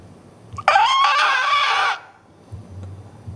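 A voice imitates a frightened deer's alarm call: one loud, strained, nasal cry lasting about a second, close and on its own.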